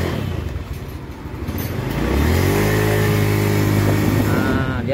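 An automatic scooter with a slipping pulley, its drive oil-contaminated, idles roughly, then its engine revs up and holds a rising, steady drone as the bike pulls away, loud and close.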